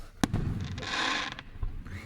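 Fireworks burst outdoors with a sharp crack followed by a crackling, sizzling shower that fades, and a voice is faintly present beneath.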